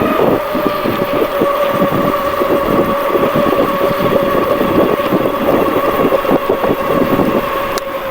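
An Actbest Summit e-bike carrying a 218 lb rider cruises at about 29 mph, giving off a steady electric motor whine over constant road and wind rush, with a sharp click near the end.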